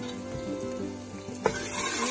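Spices and turmeric frying in oil over medium heat for Punjabi-style goat meat, giving a close, steady sizzle with a low hum beneath and one brief clink of a spoon.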